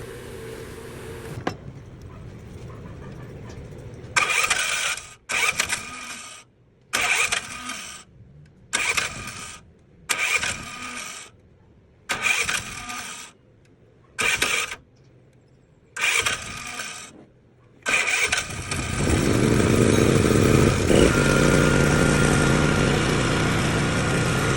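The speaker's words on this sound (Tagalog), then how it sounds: "kung naririnig nyo, umandar po at success po na ayos po natin ang ating generator set" 3500W generator engine being cranked repeatedly, a series of roughly one-second pull-start bursts separated by silences, then catching and running at a steady, loud, close roar.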